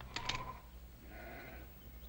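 A single sheep bleats faintly at a distance in a quiet rural setting, one brief wavering call over low background noise.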